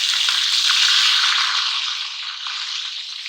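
Onions frying in hot ghee for a fish curry masala, a bright, loud and continuous sizzle heard up close, with faint stirring or scraping at the start and no one talking.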